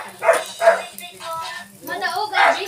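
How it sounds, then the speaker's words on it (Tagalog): A small dog yaps repeatedly at close range, several sharp barks spaced out over a few seconds, with a person talking underneath. "Ang ingay ng aming aso."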